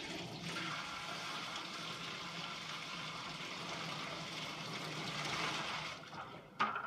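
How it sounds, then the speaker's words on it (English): A pail of soapy water used for cleaning sandals being dumped out, a steady, rushing pour of water that continues evenly for several seconds before ending with a brief splash. "you can go ahead and dump out your pail of water and soap"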